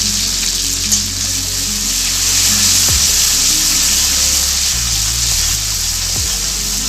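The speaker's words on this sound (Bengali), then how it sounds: "তারপরে কালো জিরে আর রসুনের পেস্টটা দিয়ে দিলাম।" Black cumin seeds and garlic paste sizzle hard in hot mustard oil while cooking a yardlong bean paste dish. The frying is a loud, steady, close hiss that runs unbroken throughout, with no voices over it.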